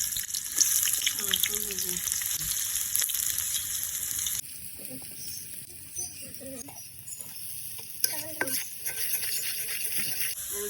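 Onions fry in hot oil in a home kitchen pan, a continuous close sizzle with stirring clatter and scraping, while a voice talks over it in places.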